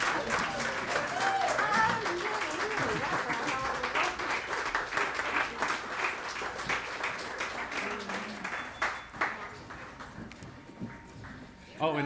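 An audience at the Clayton Downtown Development Association Awards 2013 applauds the downtown champion, a steady patter of clapping that thins toward the end, with voices talking through and after it.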